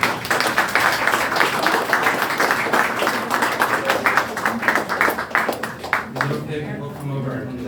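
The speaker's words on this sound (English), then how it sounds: "a big round of applause for Dr." An audience claps for a child Holocaust survivor after a talk to a teen group, a steady round of applause with distinct hand claps that fades out toward the end.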